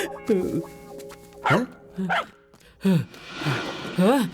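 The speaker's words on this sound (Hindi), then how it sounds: "ये भौंक क्यों रहा है?" A dog barks several times in a dubbed action movie scene, with short loud yelps spread over a few seconds and voices in between.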